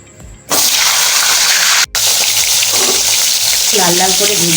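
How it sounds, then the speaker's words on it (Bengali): Pieces of pointed gourd (potol) dropped into hot oil in a pan, a loud burst of sizzling that starts abruptly, breaks off briefly, then resumes steadily with soft stirring clinks near the end. "লাল লাল করে ভেজে তুলে নেব।"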